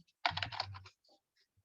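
A short burst of rapid keystrokes on a computer keyboard, close and fairly quiet, followed by a few isolated soft clicks, with no talking.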